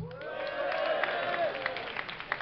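Esports crowd at a DreamHack StarCraft II match cheering and making noise for the player OGSTop, a broad steady roar of voices across the whole moment with a few sharper shouts on top.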